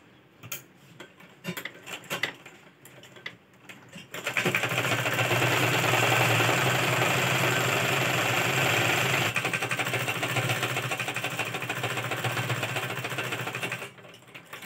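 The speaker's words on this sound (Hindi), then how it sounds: "पहले हम ये सेंटर की सिलाई लगाएंगे जो हमने एक इंच यहाँ पे बढ़ाया था, उसको हमें बीच में सिलाई लगानी है पहले।" A sewing machine stitches the centre seam of a kurti lining in a steady, fast whirring run of close, loud needle clatter lasting about ten seconds, preceded by a few short bursts and handling noises.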